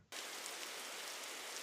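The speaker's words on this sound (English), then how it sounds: "Rain ambiance could do it." Rain ambience sound effect: after a brief quiet start, a steady hiss of rain falling on a surface fills the rest, even and moderately loud with no voices.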